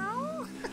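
A cat gives a short, close meow in a video game, a rising-then-falling tonal cry lasting under a second over a steady background hum.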